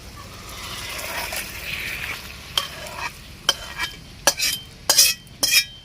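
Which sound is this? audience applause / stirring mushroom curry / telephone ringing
stirring mushroom curry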